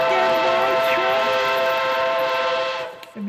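A Polar Express toy train's whistle sounds one long, steady, chord-like toot up close, then cuts off abruptly with a short mechanical bump at the end.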